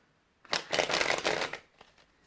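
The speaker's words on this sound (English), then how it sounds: "when you are shuffling, shuffle with all of them and don't leave any out" A deck of playing cards being shuffled by hand in a brief burst of rapid, crisp riffling flutter lasting about a second, followed by a couple of soft taps as the cards settle; no talk.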